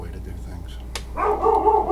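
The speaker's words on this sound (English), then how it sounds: "That's my dog." A pet dog barks in a home, a few sharp barks close by, loud over someone speaking casually.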